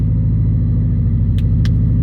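Inside a Subaru BRZ on the move, a loud steady low engine and road rumble fills the cabin, with two brief faint clicks partway through.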